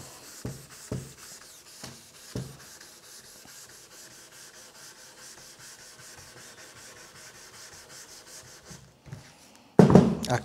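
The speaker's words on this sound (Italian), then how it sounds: "Ricordati di carteggiare sempre in maniera ordinata." Sandpaper worked by hand across a Porsche headlight lens, soft repeated rubbing strokes in a steady back-and-forth rhythm, close and fairly quiet, ending in a sharper louder scrape.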